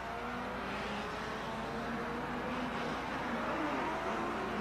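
Racing engines of 1957 Formula 1 cars, Vanwalls among them, at the German Grand Prix drone steadily at a distance, a continuous roar that swells slightly without a distinct single pass.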